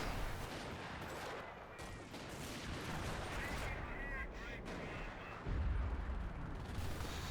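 Heavy tank gunfire in a World War II video game, including a 17-pounder gun, a dense barrage of booming shots and rumbling explosions filling the mix, with a deep low blast near the end.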